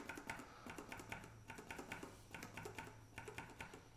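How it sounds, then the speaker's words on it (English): Cherry MX Tactile Gray keyboard switches with a firm tactile bump and no click, typed in quick irregular bursts of crisp keystrokes, close and fairly quiet with no voice. "In the bottom left here, we have the Cherry MX Tactile Gray. It is tactile, takes 80 CN of actuation force"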